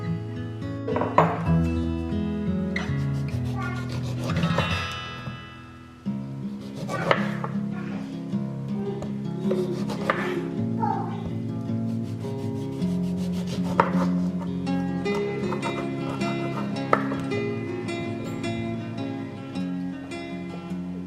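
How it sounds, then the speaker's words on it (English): A knife thuds repeatedly on a wooden board while leftover oranges are cut, followed by steady rubbing and squeaking as the halves are pressed and twisted on a juicer, with occasional clinks of dishes, all close and without talk. "I think I need to juice these and make myself up a yummy orange juice"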